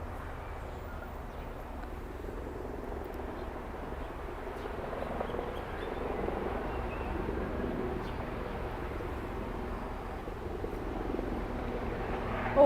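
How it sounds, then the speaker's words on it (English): Faint, distant helicopter passing over Symonds Street Cemetery, a low steady rotor drone that swells slightly over time, with light outdoor ambience and occasional bird sounds. "there's a chopper going overhead now too"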